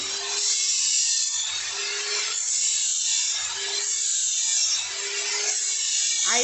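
A metal file is stroked against a brush cutter blade during sharpening: steady, rhythmic rasping passes about once a second, close and fairly loud, with no talking.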